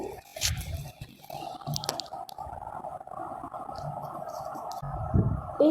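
Shrimp paturi ingredients being mixed together by hand in a bowl, giving soft wet squishing and squelching sounds in irregular bursts, close and moderately quiet.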